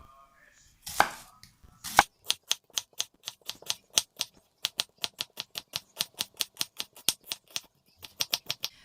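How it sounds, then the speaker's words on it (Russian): An onion finely chopped with a knife on a board, a long run of crisp, evenly spaced chops, steady and close, with a couple of louder knocks at the start. "а остальную луковицу режу мелко."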